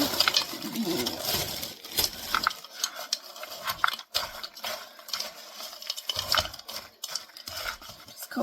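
Frozen beans stirred and tossed in a pan or bowl to coat them for a sheet-pan pork chop dinner, giving a steady, close rattling and scraping with clinks of a utensil and no talking.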